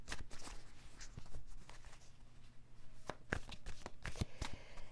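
Tarot cards are shuffled up close in a quiet room, a quick series of soft riffling flicks and taps repeating unevenly over a few seconds.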